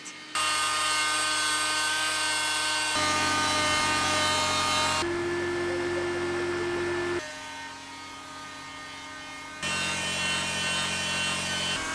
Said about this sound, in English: he's just taking the multi-tool with the sanding pad to the actual surface to rough it up